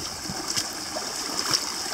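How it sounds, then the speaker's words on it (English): A small waterfall in a woodland creek pours with a constant rushing wash, and a few soft knocks and splashes sound nearby. "We have a beautiful waterfall here."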